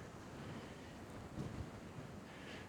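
Strong wind during a dust storm on a disc golf course in Dalhart, Texas, buffets the microphone as a continuous faint, rumbling roar with slight gusty swells.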